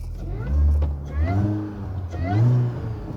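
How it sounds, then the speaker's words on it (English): A 2006 Mini Cooper S engine rises and falls in two swelling pulls while driving, with a whining tone climbing over the low engine drone. "What's kind of neat is hearing this supercharger whine."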